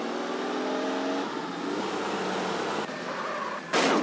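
Car engine in GTA San Andreas on Android, a small Gol hatchback driven in the game, humming and revving steadily with a gear-like shift partway, then a sudden bright burst near the end; no talking.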